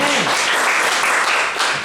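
Dense, steady applause from a crowd, sustained and loud throughout with no pauses.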